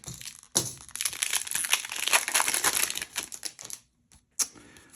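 Magic: The Gathering Zendikar Rising prerelease booster packs being torn open, a crinkly, crackling rip of foil wrappers lasting a few seconds, close and fairly loud, followed by short rustles.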